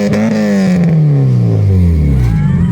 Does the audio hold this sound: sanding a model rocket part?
no